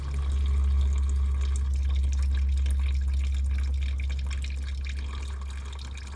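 Diesel fuel drains steadily from a filter housing on a 2001 Freightliner bus, a continuous trickling, splashing flow over a low steady hum, close and even in level, tapering slightly toward the end.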